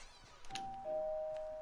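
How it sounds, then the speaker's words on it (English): A doorbell gives a quiet two-tone ding-dong chime, the second note ringing out and holding briefly over a faint background. "Gotta ring the doorbell."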